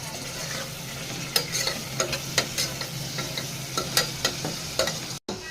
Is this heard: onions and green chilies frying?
yes